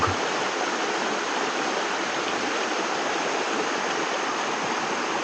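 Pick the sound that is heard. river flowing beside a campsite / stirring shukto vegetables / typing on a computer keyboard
river flowing beside a campsite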